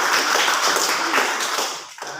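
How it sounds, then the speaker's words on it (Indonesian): A classroom group claps together during a teacher-training lesson: dense, steady clapping from many hands that holds for about two seconds, then thins out at the end. "Tepuk tangan."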